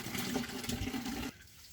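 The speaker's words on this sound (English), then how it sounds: "now I'm going to fill up this bottle to the top" Tap water runs steadily into a bottle for about a second, a close, full rush of splashing liquid that stops abruptly, leaving quiet.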